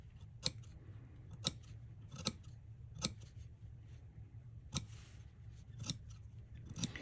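Scissors snipping through the fabric of a vintage sundress bodice, a series of sharp, close, isolated cuts spaced about a second apart over a quiet background.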